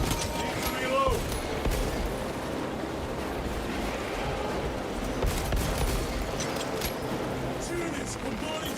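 Bombardment gunfire in the video game Space Marine 2: a dense, continuous roar of distant explosive fire and rumbling blasts, with sharper cracks popping through a heavy low rumble.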